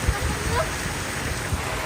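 Heavy rain pours steadily at an outdoor bonsai market, a dense even hiss of falling water with faint low thumps and brief voices in the background.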